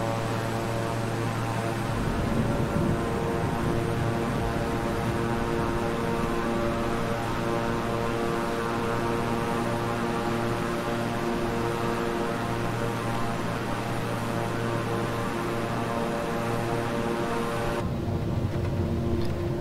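The twin turboprop engines of a King Air 350i in Microsoft Flight Simulator give a steady, loud, droning hum with a pulsing propeller tone that shifts slightly as the throttle is pushed up. It carries on constantly with no speech.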